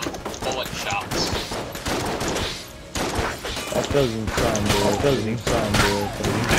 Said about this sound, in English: To hear the lovely sound of bullet shots.